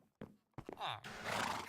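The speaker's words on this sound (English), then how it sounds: "What if I can keep an eye on my dumb horse from here?" A horse in Minecraft whinnies in a short, close game sound, preceded by a couple of brief thuds and rising into a strained neigh at the end.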